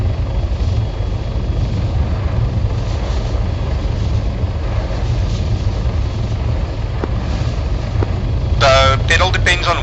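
A helicopter in Arma 3 drones with a steady, loud rotor and engine rumble throughout, with a brief burst of radio-like chatter near the end.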